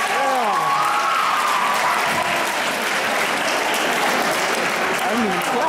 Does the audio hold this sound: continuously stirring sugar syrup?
no